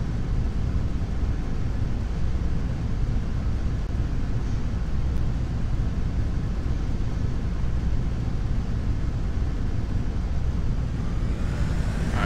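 Twin radial engines of a simulated DC-3 in FSX drone steadily at a constant, loud low roar, with a slight rise in the final second as the throttle eases forward.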